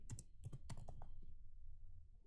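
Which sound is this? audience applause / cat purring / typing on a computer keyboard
typing on a computer keyboard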